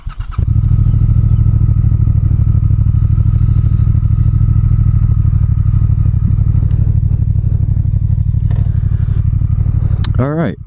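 A 2019 Triumph Speed Twin rides in road mode with a loud, close engine that drones steadily and pulses throughout, ending with a quick rising rev near the end.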